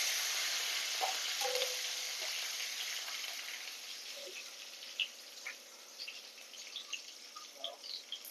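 Garlic and curry leaves fry in a hot pan with a steady, close sizzle that slowly eases, broken by light clicks and scrapes of stirring toward the end; no one speaks.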